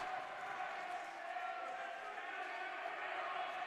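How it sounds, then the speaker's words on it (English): A steady, dense roar of crowd voices fills a gym during a women's college volleyball match between Saint Xavier and Cardinal Stritch, rising only slightly without any sharp peaks. "you can hear the crowd coming alive just a tad"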